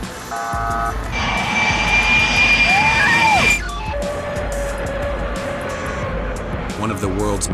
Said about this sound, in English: During the Bugan Air Show 2018, a replica of the vintage DH-2 faced a tragic accident.